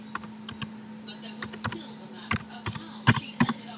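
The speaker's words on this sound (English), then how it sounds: "I'm just going to type in some search text" Keys clatter on a computer keyboard in short, uneven bursts of taps as search text is typed, with a low steady hum underneath.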